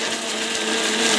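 A mixer grinder grinding chutney whirs loudly and steadily, a high-pitched continuous motor drone with no pauses.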